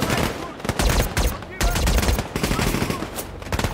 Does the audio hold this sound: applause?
no